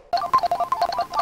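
A phone call's ringtone plays as a quick, bright electronic melody of short chirping notes, close and clear for about a second with no talk over it.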